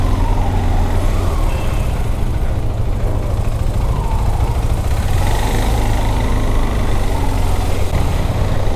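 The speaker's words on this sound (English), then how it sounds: "look at this traffic" Dense street traffic in Bogota with motorcycles and cars, a steady loud rumble of engines and road noise throughout, continuous and close with no pauses.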